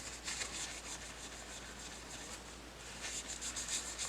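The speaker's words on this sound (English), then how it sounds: "the more I rub, the more it's coming off around the edges, outside that line, those lines." A steady, soft rubbing of gold leaf Rub n Buff being worked onto an etched surface, a continuous close friction hiss that grows slightly brisker near the end.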